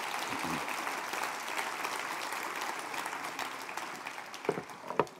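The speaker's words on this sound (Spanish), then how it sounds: "Denle un aplauso bien fuerte al Rey bendito." A congregation at a Sunday communion service claps loudly in a dense, sustained burst of applause that fills the whole stretch, with a few sharper claps standing out near the end.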